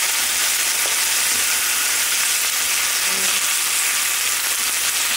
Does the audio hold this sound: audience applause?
no